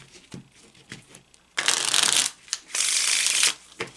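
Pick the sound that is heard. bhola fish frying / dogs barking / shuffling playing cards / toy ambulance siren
shuffling playing cards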